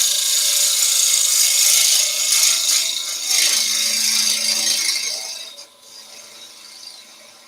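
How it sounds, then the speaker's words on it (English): A bowl gouge makes a bevel-rubbing push cut on wood spinning on a lathe, a loud, steady hissing shear of the blade against the wood for several seconds that eases off near the end, no speech. "Just a bevel rubbing push cut with the bowl gouge."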